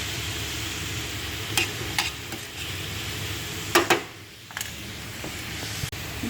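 Vegetables for a beef casserole softening in a hot pan, a steady close sizzle with occasional stirring scrapes and a few clinks, no talking.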